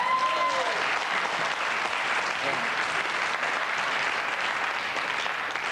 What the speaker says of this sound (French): Applaudissez si vous en avez envie, ça me fait plaisir